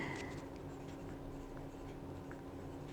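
A Moonman Q1 mini eyedropper fountain pen with a fine nib glides across paper in a faint, continuous close scratch, quiet and steady, with no voices.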